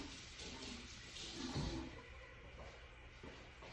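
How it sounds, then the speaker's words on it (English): Water runs from a kitchen tap while hands are rinsed, a steady rushing stream with a brief louder splash midway. "let me rinse my hands off here"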